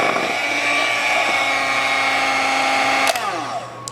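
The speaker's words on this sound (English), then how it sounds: "And mix this until it's well combined." Electric mixer beating white cake batter in a bowl, a steady close whirring hum that briefly rattles near the end as it winds down.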